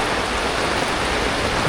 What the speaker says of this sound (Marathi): पाऊस बघा किती पडतो आहे.